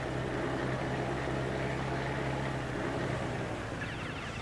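Truck engine in Farming Simulator 19, a steady low droning rumble with a strong sustained hum, loud and continuous throughout with no voices.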